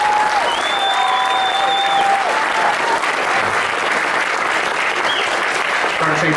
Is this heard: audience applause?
yes